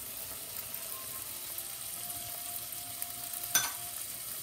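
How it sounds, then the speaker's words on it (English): Capers sauteing in oil, a steady, moderate frying sizzle throughout, with one brief sharp tap from a utensil near the end. "I want to saute the caper together"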